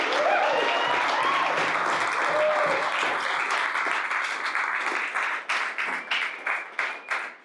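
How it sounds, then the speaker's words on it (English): Loud crowd applause that holds strong, then thins out into scattered individual claps as it dies down. "Can we give these guys a round of applause and thanks for them?"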